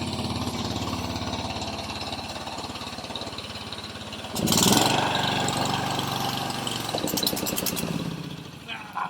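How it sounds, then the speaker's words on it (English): An old lawn mower's small engine runs with a steady rough putter, then surges louder midway and keeps chugging, with a few clanks. "it's a lawnmower"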